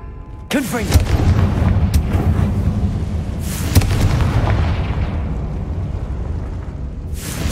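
Confringo blasting spell explosions in the Hogwarts Legacy game, a heavy boom bursting in near the start followed by sustained rumbling blasts and a second sharp burst midway, loud and dense throughout.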